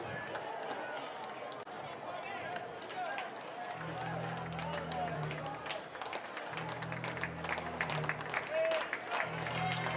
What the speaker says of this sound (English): Crowd begging for strike number 3.